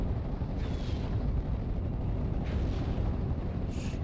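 Artillery shells bursting in a Steel Division: Normandy 44 battle, with Sexton self-propelled guns shelling a position, a dense continuous rumble of distant explosions and booms rolling on without a break.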